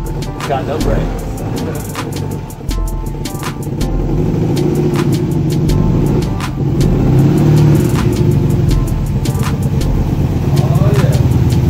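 A 1971 VW Beetle engine runs steadily while driving, a continuous mid-pitched drone with rattling clicks over it and people talking throughout.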